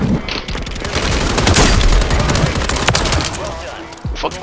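Dense, loud gunfire and bursting mortar strike explosions from a Call of Duty Warzone 3 match, with rapid overlapping shots and booms throughout and a sharp final blast near the end.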